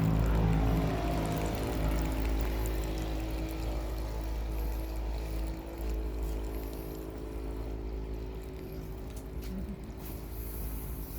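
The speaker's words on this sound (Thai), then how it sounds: "น้ำไหลไปหามัน สายยางหลุดเมื่อสักครู่นะครับ" Water pours steadily from a hose that has come loose, a continuous close gushing and trickling flow that holds at a fairly even level throughout, with no voices over it.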